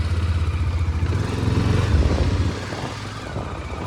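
A Bajaj Dominar motorcycle engine rumbles close by on an off-road trail near Hesaraghatta, Bengaluru, with a pulsing low throb that rises slightly, then drops to a softer idle partway through.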